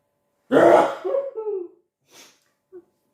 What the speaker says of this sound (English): Oh, you're going to sneeze.